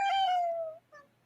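A kitten or a voice mimicking one gives a clear, close meow that slides downward, followed by a short second chirp, with nothing else around it.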